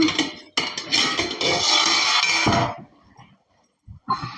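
A metal lid lifts off a pot of crab curry with clattering, clinking knocks of metal on metal, a few sharp bursts followed by a short quiet pause and a final clink, close and fairly loud.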